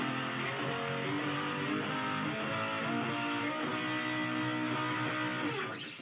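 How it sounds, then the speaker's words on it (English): An E bar chord strummed on all six strings high up the guitar neck, sustaining loud and full for several seconds before starting to fade at the end. "So that's going to sound like this when you're playing it up the neck."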